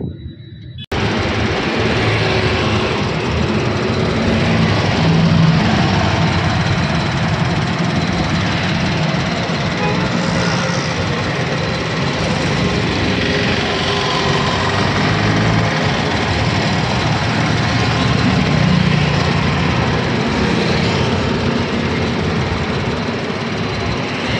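A single-owner vehicle with 40,000 km engine idles close by, a steady low rumble with a rough, even texture that starts abruptly and runs unchanged.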